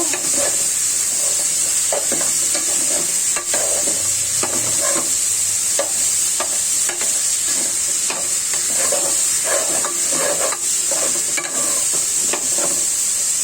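Mung dal lentils are fried in a little oil in a pan, a loud continuous sizzle with repeated scraping stirring strokes running throughout, no voices.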